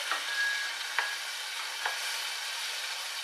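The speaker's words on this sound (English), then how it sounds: "It's going to get quite sizzly" Onions fry in a pan at a fairly gentle sizzle, steady and close, with a couple of soft stirring clicks and a faint tonal squeak, no speech.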